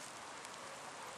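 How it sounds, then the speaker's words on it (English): Rain starting to come down outdoors over a vegetable garden with pepper and cantaloupe plants, a steady close hiss of drops falling without a break. "It's starting to come down rain."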